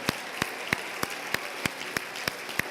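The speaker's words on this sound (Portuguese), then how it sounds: "Aplauda ao Senhor," Within a worship service, a church congregation claps to the Lord in a slow, regular beat, evenly spaced sharp claps about three per second over a soft background hum.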